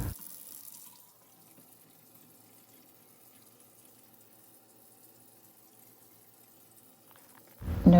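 A kitchen sink faucet runs with water at a low, steady hiss for several seconds after a new garbage disposal is fitted, faint and continuous, ending in a louder clunk.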